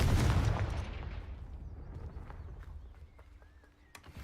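A Confringo blasting curse detonates in the video game Hogwarts Legacy: one loud, close, booming blast that rolls away into a long fading rumble, with faint game sounds and small clicks following and no voices.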